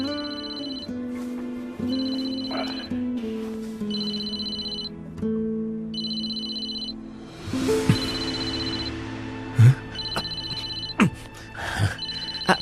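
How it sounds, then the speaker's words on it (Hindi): A telephone bell rings in repeated bursts with short pauses between them, fairly loud and close. Other clattering sounds join in toward the end. "अरे किसका फोन है?"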